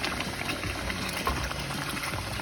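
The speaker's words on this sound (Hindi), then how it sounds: "1 कप पानी डाल के इसको मैं" A cup of water poured into a pan of cooking palak gosht, a spinach and meat curry, giving a steady watery rush and sizzle that holds at moderate loudness throughout, with no voices.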